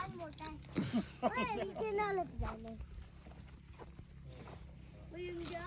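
Horse hooves clip-clop at a dam in Mirpur, Azad Kashmir, faint and irregular beneath lively overlapping voices, with the talk dominating the first half and the hoofbeats fading into background noise.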